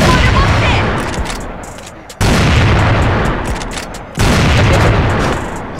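Explosions and gunfire in a shooter video game, with dense loud bursts of boom and rattling shots, broken by two sharp cuts where a new heavy blast starts.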